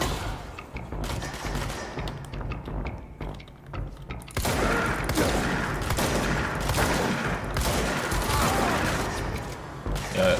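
Gunfire in the action video game Control, a steady stream of shots that thickens into a loud, continuous volley after the first few seconds, with occasional thuds beneath.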